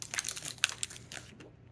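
A crunchy bite into Dubai chocolate with pistachio filling, a few close crisp crackles and crinkles in quick succession, fairly faint, with no talking.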